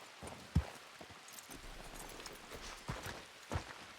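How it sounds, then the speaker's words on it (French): Horse hooves clip-clopping in a western-themed video game, several faint separate hoof thuds at uneven intervals, heard softly against quiet background ambience. "je vois un cheval là-bas"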